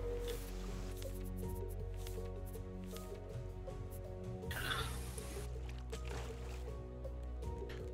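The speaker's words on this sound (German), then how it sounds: "Alle knuspern sie hier." Mango being eaten in the survival game Raft makes soft, squishy crunching bursts, the clearest around the middle, over a quiet music bed.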